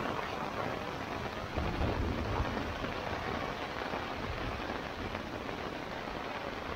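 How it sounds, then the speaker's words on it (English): Steady heavy rain drums on a small minimalist two-person tent during a thunderstorm, a dense unbroken patter with a low rumble of thunder swelling briefly partway through, no voices. "Well, it's raining pretty good now."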